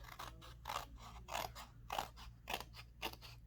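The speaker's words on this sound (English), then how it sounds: "so now we're going to just go through with your scissors and cut that heart out." Scissors cut a heart shape out of paper, with about eight quiet, rhythmic snips heard up close and on their own.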